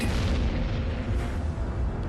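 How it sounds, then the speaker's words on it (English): A deep, sustained rumbling roar like a huge explosion of a star, loud and continuous with no voices. "the star can no longer accommodate it, and it eventually explodes"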